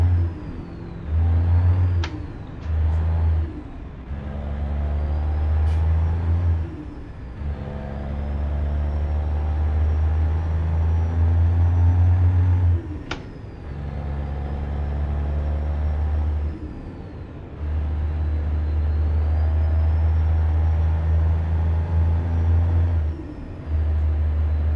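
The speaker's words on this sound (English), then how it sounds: "Look at this thing, that's that 3176A Marine Caterpillar engine in it." A Peterbilt 379 truck with a Caterpillar 3176A engine drones in American Truck Simulator, its deep engine note rising and falling through repeated gear changes with brief drops in power, alone and steady.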